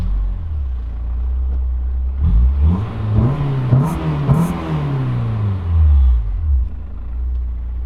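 A Honda S2000 engine cranks over and fires up, then revs in a couple of rising and falling sweeps before settling to a loud, close idle rumble, with no one talking.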